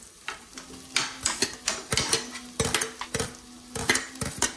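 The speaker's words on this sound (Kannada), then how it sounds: "ಇದಾದ ಮೇಲೆ ನಾನು ಈರುಳ್ಳಿ ಹಾಕೊತೀನಿ." Onion frying in a pan while it is stirred, with a steady run of quick metallic scrapes and clinks from the utensil over a soft sizzle and a faint hum.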